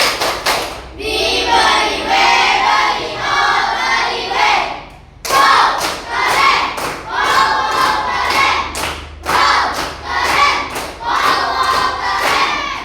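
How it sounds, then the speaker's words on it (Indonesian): A school class does a rhythmic appreciation clap routine, with loud group clapping and chanting voices in patterned bursts. A short pause comes before a second, more sharply accented round. "Tepuk apresiasi"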